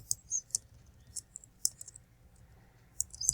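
A computer mouse gives several faint, crisp clicks at irregular intervals, some in quick pairs, against a quiet room background with no voices.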